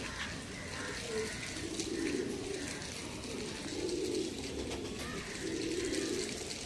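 An adult Lal Shira pigeon pair coos in a cage, giving soft, low, rolling coos in three repeated bursts over faint background noise.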